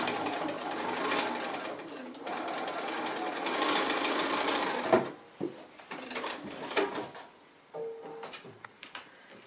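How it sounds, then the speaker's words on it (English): A sewing machine stitches a line along a fabric pencil case in two steady runs, close and moderately loud, followed by softer handling clicks and rustles. "now we're going to do another line of sewing, maybe an eighth of an inch away"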